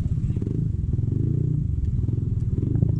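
A Yamaha NMAX V1 scooter with a kalkal pulley and a 1,000 RPM clutch spring accelerates on a top speed run. Its engine drones loud, close and steady, with a low rumble and light rattling, and no talk over it.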